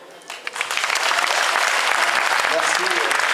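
A crowd at the 2015 Orthez rally awards evening breaks into applause that swells quickly after a brief voice, then holds as full, steady clapping.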